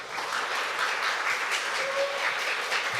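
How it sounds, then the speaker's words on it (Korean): A church congregation gives sustained applause and cheers at a worship service, a dense, even wash of clapping from a large crowd filling the room, with no speech. "환호도 해주시고 감사드립니다"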